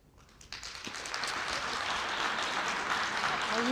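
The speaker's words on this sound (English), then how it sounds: "Well, you got the applause." Audience applause at a Denver mayoral forum builds quickly from a few scattered claps into a full, steady round of clapping from the crowd.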